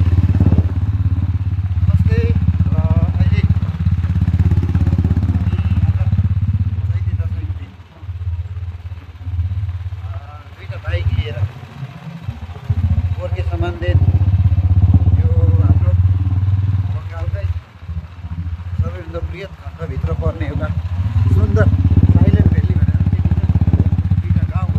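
A motorbike travels along a rough trail toward a homestay in the hills, its engine droning loud and close throughout with bumps and clatter, while people talk over it at times.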